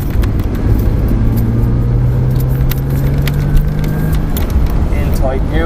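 A race car engine at Mondello circuit roars loudly and steadily, rising in pitch as it accelerates down the straight, with a coach's voice talking over the engine noise.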